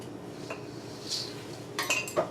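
A spoon stirs liquid and dry granola ingredients together in a bowl, giving quiet scraping with a few sharper clinks toward the end; no one speaks.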